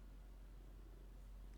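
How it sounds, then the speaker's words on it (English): A cat purrs steadily up close, a continuous low rumble with no pauses, quiet and alone. "Oh, he's purring."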